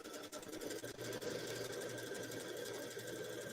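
A sewing machine stitches a pocket on a grocery bag, running as a continuous fast mechanical whir and buzz, close and steady from start to finish with no talking.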